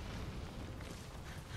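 A grenade explosion in the online shooter Metal Gear Online 3, a dense rumbling boom that fills the short stretch at steady loudness, with no talk over it.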